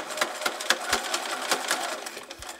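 Sewing machine backstitching a fusible-thread quilt binding on an art quilt table mat, a fast chattering run of needle strikes, close and fairly steady, with slight surges in speed.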